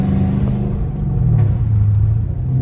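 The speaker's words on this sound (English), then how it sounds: "It was just an Audi that just went past." An Audi driving past at night, heard as a steady, loud, low engine rumble that swells slightly midway, with no voices.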